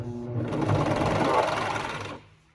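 A coverstitch sewing machine runs steadily in one close, loud, whirring burst for about two seconds while stitching 5/8-inch fold-over elastic, then winds down and stops.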